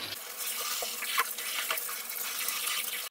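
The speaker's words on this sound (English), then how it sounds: "Then I use maximum temperature on my shower and wash it also very thoroughly." Hot shower water rinses soap off a snake enclosure and its decorations and water dishes, a steady close hiss of spray and splashing that runs unbroken, with a few brief clunks and drips.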